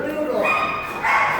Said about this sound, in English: where are all these labradoodles coming from?